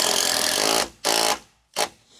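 A power drill bores holes for wall anchors in a garage build during extreme winter, one long grinding burst followed by two shorter ones, loud and close with no talking.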